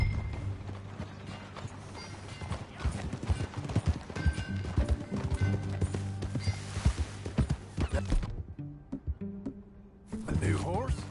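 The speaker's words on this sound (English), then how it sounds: "A new horse?" Horse hooves clip-clop steadily across a ranch in a PS4 video game, a rhythmic run of close, fairly loud beats over game music and talk, with a brief near-silent gap before the hoofbeats return.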